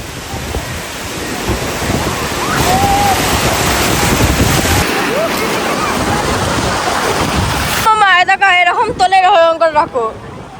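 Sea waves at RK Beach, Visakhapatnam, wash loud and broad with wind buffeting the microphone, then give way near the end to a melodic, voice-like tonal sound.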